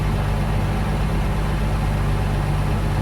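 Vehicle engine idling steadily at close range, a continuous low, even drone with no change in pitch and no voices.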